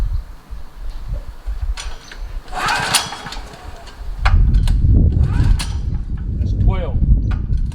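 A Generac generator being pull-started with its choke on, giving rasping recoil-cord pulls followed by sputtering, rumbling engine turnover that fails to catch, loud and close.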